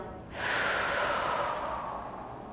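A person takes one long, deep breath during a prenatal and postnatal Pilates reformer workout, starting abruptly and then fading slowly, close and audible with no talking.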